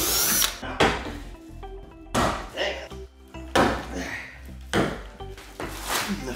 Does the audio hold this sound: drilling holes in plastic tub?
yes